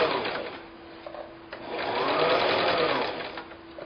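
A sewing machine stitches fabric steadily on a quilt block, its motor whirring up to a fast run before easing back slightly, loud and close with no talk.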